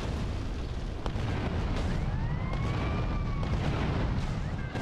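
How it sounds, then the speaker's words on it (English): Grenade blasts in Grand Theft Auto: Liberty City Stories, a dense continuous rumble of booming explosions with cracks and pops layered over heavy low-end noise, loud and unbroken throughout. "Just start chucking grenades."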